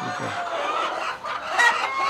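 Sonali breed hens cluck on a poultry farm, a close, busy chorus of short clucks and calls filling the whole two seconds with no one talking.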